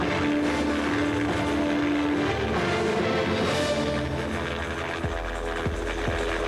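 A hovering helicopter during a stunt, its rotor and engine making a loud, steady throbbing roar throughout with a sustained whine, with a few low thumps near the end.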